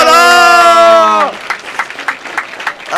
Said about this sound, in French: On peut applaudir les 4 là.